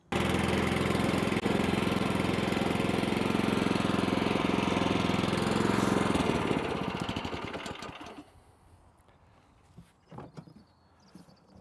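Allett C27 cylinder mower fitted with a spring tine rake cartridge, its engine running loud and steady with a rattling mechanical drone for several seconds before winding down, leaving a quieter idle and a few faint knocks.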